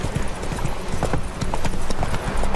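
Hooves of Roach, the horse in The Witcher 3: Wild Hunt, clip-clop in a steady close rhythm, a brief whinny mixed in, with faint game ambience behind.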